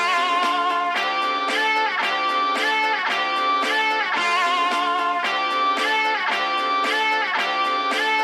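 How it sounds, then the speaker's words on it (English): Chopped guitar sample, pitched up five semitones and sped up, plays as a bright, rhythmic loop of short repeated stabs at steady loud volume with no talking. "I actually pitched it up 5 semitones, I sped it up, and I basically chopped up the guitar."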